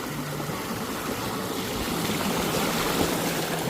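A bike rolls through water on a trail on the Noosa network, with a rushing, splashing wash of water that builds slightly, close up and with no voices.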